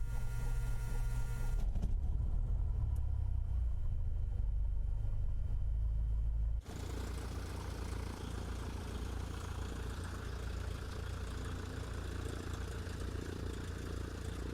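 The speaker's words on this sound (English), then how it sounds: "we are going to get the engine started" A Cessna 172 engine starts in Microsoft Flight Simulator: a low starter and engine rumble opens, cuts out abruptly, then a steady idling drone settles in and runs on evenly.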